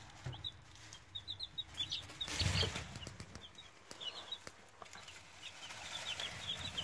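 Chicks in a brooder giving repeated short, high peeps scattered across several seconds, fairly faint, with a brief rustle or thump partway through.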